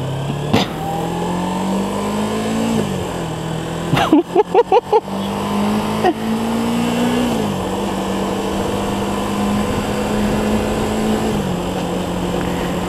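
A 1991 Kawasaki ZZR 250 motorcycle engine drones steadily up close, its pitch rising and dropping through gear changes, with a burst of rapid sputtering mid-ride.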